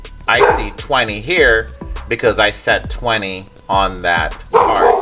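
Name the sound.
dog barking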